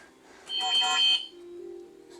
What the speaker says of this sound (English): Excuse my phone. I guess I need to put that on silent.